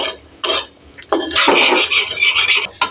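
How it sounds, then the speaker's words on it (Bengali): A spoon scrapes and stirs asafoetida frying in oil in a pan, giving a few loud, close rasping strokes in uneven bursts with brief pauses between. "নেড়ে দিলাম, হিং যাতে পুড়ে না যায় খেয়াল রাখতে হবে।"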